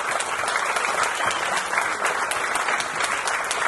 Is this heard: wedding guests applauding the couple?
yes